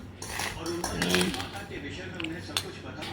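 Corn bhel tossed with sprinkled cheese in a bowl, a spoon clinking and scraping against the dish in steady mixing strokes, close by and moderately loud.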